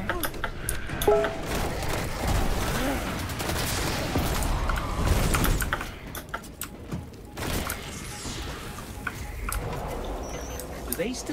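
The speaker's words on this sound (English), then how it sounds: "How come they're shooting each other?" Bursts of video game gunfire from Destiny 2 crackle in rapid volleys at mid distance, with gaps between them and a voice talking throughout.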